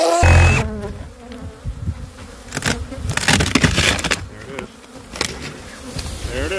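Aggressive killer bees swarm and buzz loudly around a freshly cut-open hive, a dense, continuous droning close to the ear with some crunching and handling noises mixed in.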